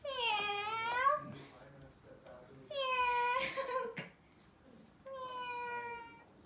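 An indoor cat gives a few distinct meows, each a drawn-out wavering cry, with short pauses between them, close to the listener, while a person coaxes it with meow sounds.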